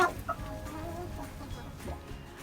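Hens softly clucking in their nest beside eggs about to hatch, a few faint low calls over a steady quiet background hum, close by.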